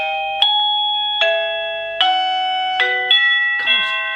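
A doorbell plays a Christmas tune chime, a clear sequence of bright electronic bell tones ringing one after another, loud and close with no talking.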